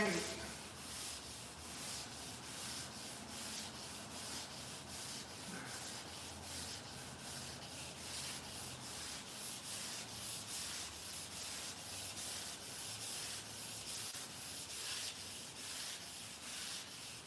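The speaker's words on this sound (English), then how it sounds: "Block sanding it, prepping it for paint." A Dodge Dart's car body is block sanded with 400-grit paper to prep it for paint, a continuous rhythmic back-and-forth rasping of even strokes, close and steady.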